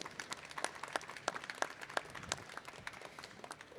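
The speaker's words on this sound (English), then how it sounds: "please applause for Marek." Conference audience applauding a presenter, a dense steady patter of many hands clapping at moderate distance, continuing evenly for several seconds with no speech over it.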